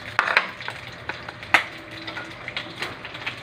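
Ground meat sautéing in a pan, a quiet background sizzle broken by a few sharp scraping and tapping stirs against the pan, with no talk.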